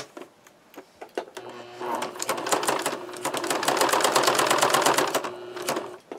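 A sewing machine stitches through paper, running in a fast steady mechanical chatter after a few short starts, with a brief stop and a couple of clicks at the end.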